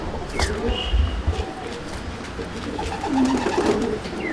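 Low pigeon coos come from a loft, a soft rolling call near the end after some thumping handling noise, close and moderately loud over a steady background hum.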